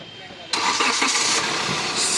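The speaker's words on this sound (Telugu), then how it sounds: "ఇంజిన్ ఆఫ్ చేశాను మళ్ళీ స్టార్ట్ చేస్తాను చూడండి" A 2016 Hyundai Creta 1.4 cranks and fires at about half a second, its engine catching abruptly and settling into a loud, close, rough running noise.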